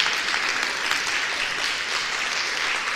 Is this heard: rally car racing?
no